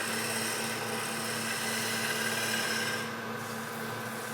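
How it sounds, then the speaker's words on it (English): A gouge making a shear scrape cut on a wooden sphere spinning on a lathe gives a steady, close rasping scrape over the motor's constant hum, easing off near the end. "do this a shear scrape cut right here"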